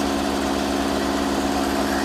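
A tractor engine runs under load, a steady low droning rumble with a constant throb and no pauses.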